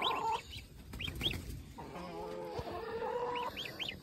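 Chickens cluck at a duck house, with repeated short rising clucks and a drawn-out bawking call, fairly close and clear over faint background rustle.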